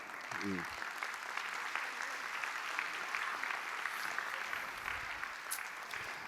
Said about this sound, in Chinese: 我们再一次的给 Andy 一个掌声哦